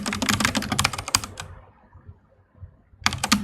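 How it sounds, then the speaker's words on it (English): Rapid clattery typing on a computer keyboard close to the mic, a dense run of keystrokes that stops for over a second, then starts again. "Your keyboard sound is killing."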